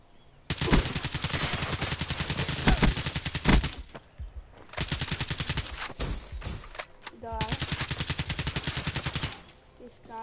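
Long bursts of rapid automatic fire come from a picked-up gun in Call of Duty on PS4, three sustained strings of shots, loud and close, with a player's voice talking in between.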